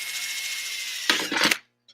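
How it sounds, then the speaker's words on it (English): A power drill drills a small hole for a DIY hobo stove: the motor whines steadily, then louder grinding bursts as the bit bites, stopping abruptly near the end. "Drill a little hole."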